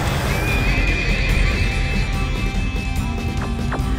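A horse neighs as a summoned monster in the animated show Ghost Mecard, giving one long, wavering whinny over a busy, steady layer of background noise.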